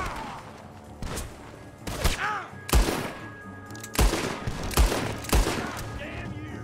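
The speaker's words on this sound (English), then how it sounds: "The gunshots are coming from that barn." Sharp gunshots from a barn in the video game Red Dead Redemption 2 crack out one after another at irregular intervals, loud and close, with echoing tails between the bursts.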